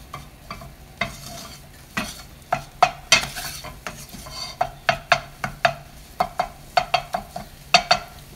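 Flour roux cooking in a pan, sizzling softly while a utensil stirs and scrapes against the pan in a quick, regular rhythm of close clicks and knocks.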